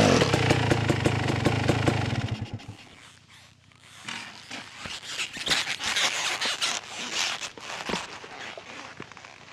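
Motorcycle fitted with a Rekluse auto clutch running in gear, a loud close engine rattle for two seconds that drops away, then rises again as uneven revving and mechanical clatter.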